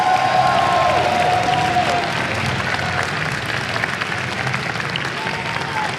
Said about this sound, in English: I believe this applause is well-deserved.